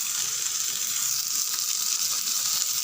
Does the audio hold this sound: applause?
no